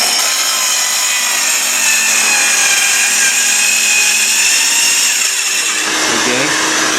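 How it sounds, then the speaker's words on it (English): A PC 314 circular saw trims a piece of wood, a loud continuous high-pitched cutting whine close by that carries through the whole stretch and changes tone near the end. "Let's see how much sawdust we can create by trimming this piece here."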